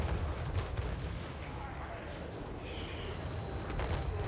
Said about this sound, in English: Right, so he's trying to take out Zhang Feng / Lu Bu, but his artillery fire is not good